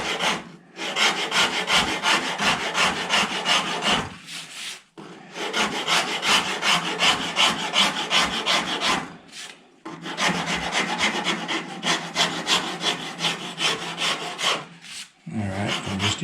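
A rasp carves a walnut and mahogany guitar neck, scraping in three long, steady runs of rapid back-and-forth wood rubbing, loud and close with brief pauses between.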